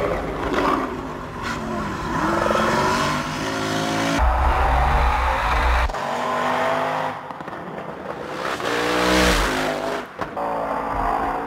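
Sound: Ken Block's rally car driving through the mountains

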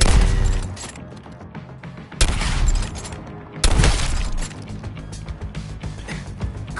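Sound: gunfire in Suicide Squad: Kill the Justice League video game

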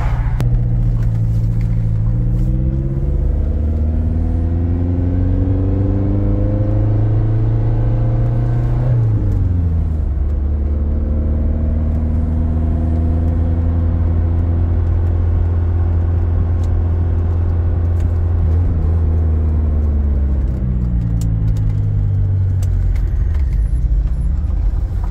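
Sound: car driving around a property

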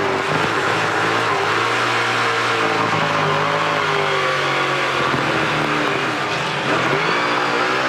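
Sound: onboard NASCAR Pinty's Series race car spinning

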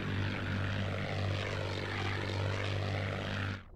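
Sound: propeller aircraft engine, Spitfire or Bf 109, video game

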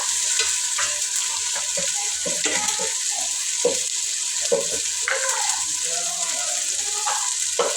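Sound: ginger garlic paste frying and being stirred in a pan

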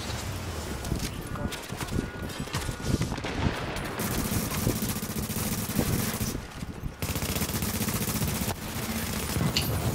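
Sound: LMG machine gun firing in a video game

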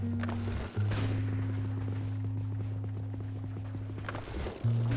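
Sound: horse hooves clip-clopping in the video game Knightfall

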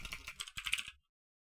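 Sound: typing on a computer keyboard

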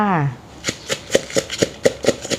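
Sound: pounding chillies and garlic in a mortar for papaya salad

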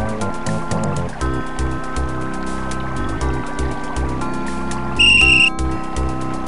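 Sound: magic whistle blown in video game Simon the Sorcerer

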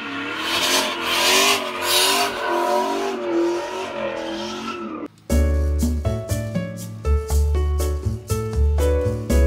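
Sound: turbo 6.1 Hemi Chrysler 300C SRT engine revving

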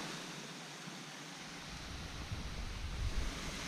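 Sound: small waterfall

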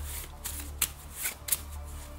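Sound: shuffling game cards

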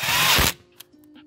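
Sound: power tool driving bolts on aluminum engine block

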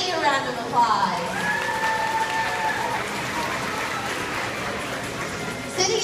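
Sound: audience applause for Jetty the sea lion

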